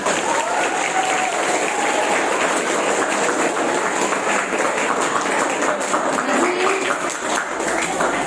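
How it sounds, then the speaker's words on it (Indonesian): Loud, dense applause from a large group of children, clapping steadily and continuously throughout with a faint murmur of voices underneath. "Tepuk tangan dulu untuk adik-adik semua."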